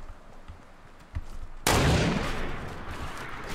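Gunfire in Fortnite Battle Royale, a sudden loud burst of shots after a quieter stretch, followed by sustained noisy rattling to the end.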